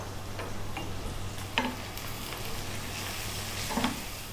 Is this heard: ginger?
yes